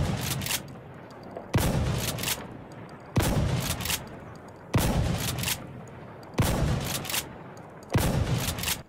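Remington M870 pump shotgun firing in the video game Insurgency Sandstorm: six loud, booming single shots spaced evenly about one and a half seconds apart, each with a sharp blast and a short decaying tail, with no talk.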